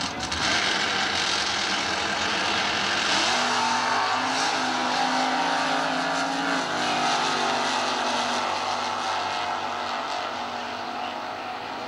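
SuperStock drag cars at the 2001 NHRA US Nationals in Indy roar off the line in class eliminations, engines loud and sustained as they rise in pitch down the strip, with crowd and track noise behind.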